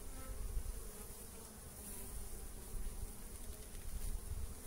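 Honeybees buzz steadily from an opened hive during a March inspection, a dense close hum with no voices.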